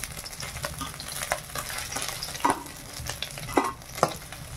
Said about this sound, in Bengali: এই মাছ ভাজতে ভীষণ কষ্ট। মাছটা ভাজা হয়ে গেছে